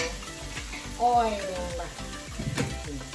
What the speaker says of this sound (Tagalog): lalagyan ko siya ngayon ng konting oil